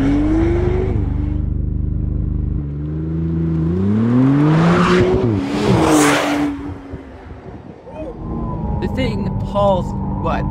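A McLaren Artura Spider sports car accelerates hard, its engine note climbing through rising gear pulls with a brief shift pause, heard up close from inside the car, then settling to a lower cruising hum with light chatter near the end.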